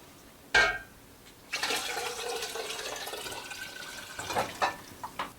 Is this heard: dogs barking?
no